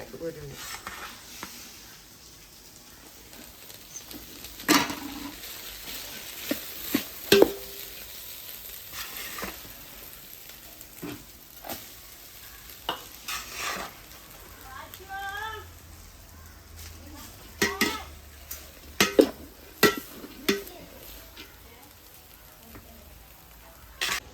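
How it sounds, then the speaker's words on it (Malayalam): Cooked rice is stirred and folded into fried rice in a pan, giving a soft, low sizzle broken by intermittent scraping and clinking strokes, with occasional faint voice sounds. "ഇനി നമുക്ക് ഇതിലേക്ക് റൈസ് ഒന്ന് ചേർത്തിട്ട് നല്ലോട്ട് അളച്ചെടുക്കണം"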